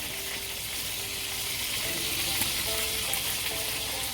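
Small fish frying in a pan, a steady, dense sizzle of hot oil crackling continuously at close range with faint spatters, no voices.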